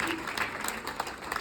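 An audience at a talk breaks into brief clapping, scattered claps rising and falling over a short stretch with a faint murmur of voices.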